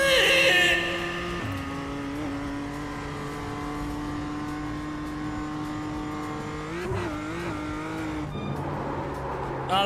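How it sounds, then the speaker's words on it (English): Squeaky brakes sound in a sim-racing video game: a sustained, steady tonal whine from a car that slides in pitch partway through, with a short engine flare at the start and no talking. "They're just squeaky brakes."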